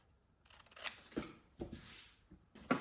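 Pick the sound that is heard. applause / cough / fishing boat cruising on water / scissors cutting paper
scissors cutting paper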